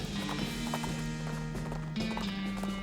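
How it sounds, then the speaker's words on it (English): Cart horses clip-clop in the video game West of Loathing, a steady run of hoofbeats under droning in-game music and tones. "Why don't you just ride the horses? These are cart horses."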